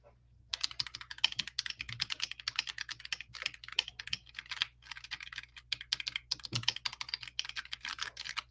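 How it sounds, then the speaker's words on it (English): A heavy computer keyboard being typed on: dense, continuous clatter of keystrokes close by, loud and steady with brief pauses, no talking. "I love this keyboard with my whole heart"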